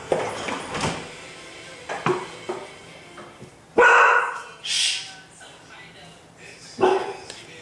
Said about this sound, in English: My dog is after a possum.